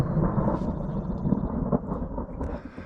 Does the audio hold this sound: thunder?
yes